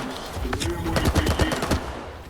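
Pistol gunfire in the shooter S.T.A.L.K.E.R. 2, a rapid burst of sharp, closely spaced shots cracking in quick succession at close range over game ambience.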